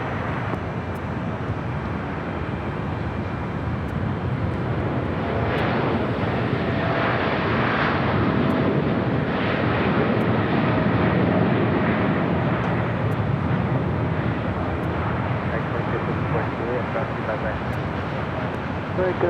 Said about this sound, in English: we do have that United Dreamliner heading to London Heathrow, now taking off on the south side